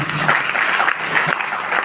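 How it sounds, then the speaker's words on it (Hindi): Audience applause at a 10th anniversary celebration and product presentation, a steady dense clapping from a crowd filling the whole short stretch at moderate loudness. "एक बार जोरदार फिर से ताली।"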